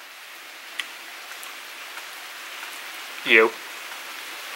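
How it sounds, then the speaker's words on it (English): Heavy rain falls steadily outdoors, a constant hiss of drops that stays even throughout, with a voice briefly speaking a single word partway through. "The rain's getting a little heavy right now"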